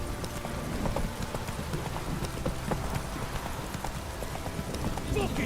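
Horse hooves gallop in The Witcher 3, a close, steady clip-clop rhythm of repeated hoofbeats running continuously without pause.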